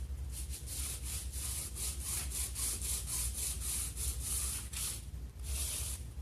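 Sandpaper rubs back and forth across a painted wooden coffee table, stripping paint in quick, even strokes that repeat steadily, close and crisp, with no voices.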